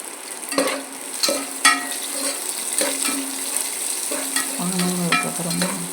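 Onions sautéing in a pan for chicken curry, a steady close sizzle with several sharp spoon scrapes and taps against the pan.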